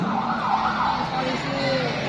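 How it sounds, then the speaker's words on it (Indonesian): A loud police siren wails continuously, its pitch sweeping up and down over traffic rumble. "ini tadi yang sirine kepolisian"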